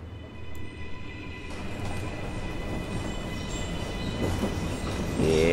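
Train rolling along rails in the video game OMSI 2 on a Septa line, a steady rumbling drone with rail clatter that builds slightly in loudness toward the end, with a faint squeal near the close.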